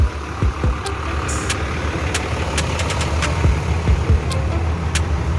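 A large front-mounted Hino diesel bus engine idles nearby at a bus terminal in Solok, West Sumatra, with a steady low rumble, broken now and then by faint clicks and knocks.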